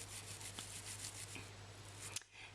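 A manual toothbrush scrubs back and forth along the gumline, a soft, close, continuous bristle rubbing with brief strokes and no talk.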